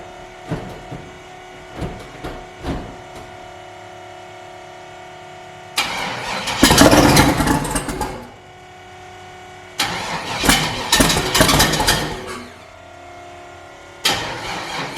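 Cold twin-turbo car engine cranking over in repeated loud bursts of starter whirring, separated by quiet pauses, with softer clicks and knocks before the first attempt.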